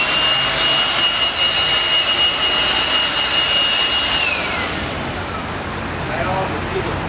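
A Makita DUB182Z cordless 18V blower runs close by with a loud, steady whooshing roar and a high whine that drops in pitch midway, and a voice speaks faintly underneath.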